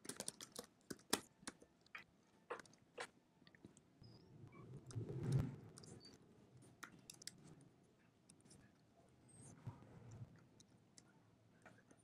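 Someone types exam questions on a computer keyboard, producing soft, irregular clicks and taps in quick bursts over about twelve seconds, faint and close in a quiet room with no talking.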